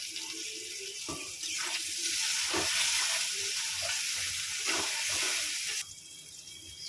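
Spices with a ginger, chili and tomato paste frying in a pan while cooking fish curry, giving a steady broad hiss and sizzle with occasional soft stirring scrapes, close and fairly loud throughout.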